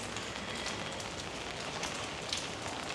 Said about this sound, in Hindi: इससे बारिश हो रखी है